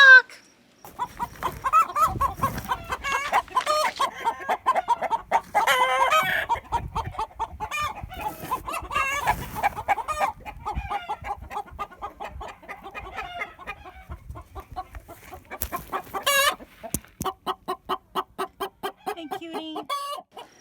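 Chickens giving the intense type 2 warning call, rapid repeated clucking bursts punctuated by sharp squawks, close and loud, continuing in clustered runs with brief gaps.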